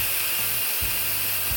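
A pressure cooker vents steam through its release valve after cooking, a steady, loud hiss that runs unbroken, with a few soft low thumps and clatters beneath it.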